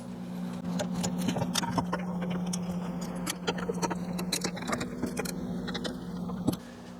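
A torque wrench tightens the four wheel-bearing bolts to the spindle on a 2006-18 Lincoln MKX rear wheel bearing job: a run of sharp metallic clicks and ratchet ticks, close and fairly loud, over a steady low hum.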